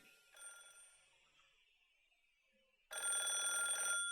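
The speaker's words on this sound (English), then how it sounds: "So the phone in the hall was ringing." A landline telephone in a hallway, from the visual novel If My Heart Had Wings, rings in a bright electronic trill that fades into a held tone before a loud ring bursts in again at the end, with no voices.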